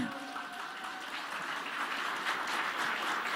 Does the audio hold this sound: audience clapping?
yes